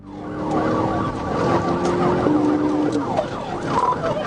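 A wailing police siren sweeps up and down over a rumbling vehicle engine during a high-speed pursuit, loud and close, with overlapping siren tones.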